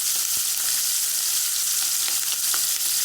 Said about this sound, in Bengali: এই যে আমি চান্দা মাছটাকে হলুদ লবণ দিয়ে মেখে এই যে ভেজে নিচ্ছি, কড়া করে ভাজবো